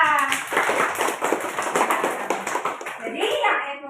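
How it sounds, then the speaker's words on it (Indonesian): Elementary school children clap for a classmate in a classroom, a short burst of rhythmic, fairly close hand claps with children's voices chattering over them. "Tepuk tangan untuk Laila"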